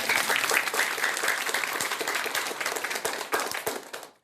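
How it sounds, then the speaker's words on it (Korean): An audience at a Buddhist dharma talk gives warm applause, dense rapid clapping from many people that stays strong and then tapers off and fades out at the end. "뜨거운 박수 한번 주시기 바랍니다."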